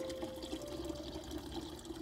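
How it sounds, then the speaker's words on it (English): A backyard garden water fountain splashes and trickles steadily and close by, a continuous watery wash with no talk over it. "This water fountain right here, it brings a lot of birds,"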